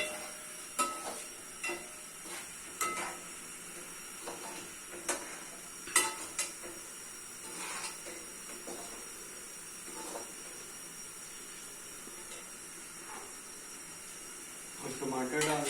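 Spices roasting in a pan for chicken karahi, a soft steady sizzle with occasional stirring scrapes, fairly faint and continuous, while a voice talks over it.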